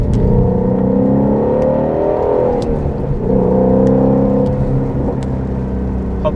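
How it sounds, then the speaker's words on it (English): A Ford GT350 on a wet road in the rain, its engine whirring and rumbling up close, loud and steady with a slight rise and fall in pitch, with no voices. "Awesome GT350 brakes in the rain."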